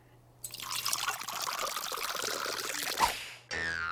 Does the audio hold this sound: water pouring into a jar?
yes